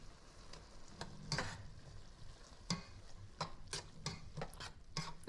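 Chopped meat and wilting arugula fry in a pan while being stirred, giving a steady close sizzle broken by repeated scraping, clattering strokes of the utensil against the pan, with no talking.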